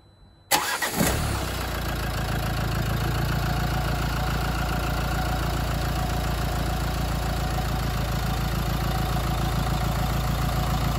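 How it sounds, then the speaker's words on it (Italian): A car engine cranks on a jump starter booster and catches with a sudden burst, then settles into a steady, even idle that runs on without pause. "è partita perfettamente, come sentite, anche il motorino ha girato molto velocemente"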